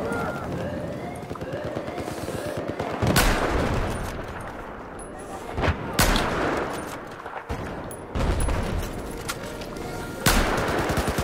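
Sniper rifle fire in Battlefield 4, a few sharp, loud shots spaced several seconds apart over dense battle noise and a player talking.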